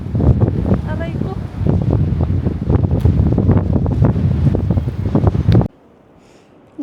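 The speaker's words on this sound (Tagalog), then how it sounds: "Nag-mic na ako kasi masyadong mahangin." Strong gusting wind buffets a microphone on an exposed hilltop at One Tree Hill, a loud rumbling roar with a person's voice over it, cutting off abruptly into near silence near the end.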